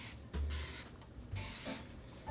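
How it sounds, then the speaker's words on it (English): A spray bottle squirts cleaner onto the inside of a microwave door in two sharp hissing bursts, each about half a second long, heard up close with a short pause between them. "I'm gonna go ahead and spray the inside of the door"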